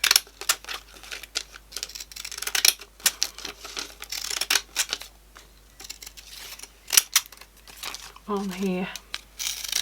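Scissors snip through paper while making a sketchbook page, a run of short crisp cuts and rustles close by, with a voice speaking briefly over them.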